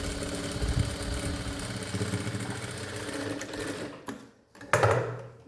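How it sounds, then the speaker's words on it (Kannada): A sewing machine stitches a blouse with a steady, close mechanical whirr that drops out briefly, then starts again with a short burst, with no talking. "ನೋಡಿ, ಇನ್ನೊಂದು ಡಬಲ್ ಸ್ಟಿಚ್ ಹಾಕೋಣ."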